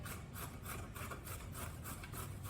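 A carrot grated on the largest side of a box grater, rapid rhythmic rasping strokes, close and fairly quiet, with no talking.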